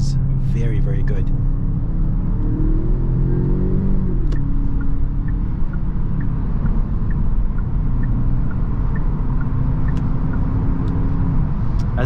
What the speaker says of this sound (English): When you put this car in sport mode, it sounds good. And I think it does have a little bit of that fake noise